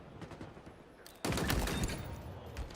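Commando rifle gunfire from the Halo Infinite video game in a competitive Oddball match: loud, sustained rapid shooting bursts that start abruptly after a quieter stretch and continue densely to the end, with no talk.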